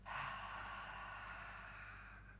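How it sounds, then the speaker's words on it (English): A long, deep exhale during a yoga breathing exercise, a soft, airy rush of breath that starts full and gradually fades over about two seconds, close and alone. "Pause and hold for one more deep breath in. Exhale inside out."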